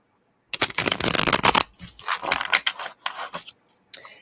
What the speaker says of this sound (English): We have one more shuffle.